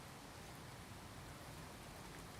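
Steady rain from Skyrim, a video game, falls as a faint, even hiss with no breaks and no voices over it.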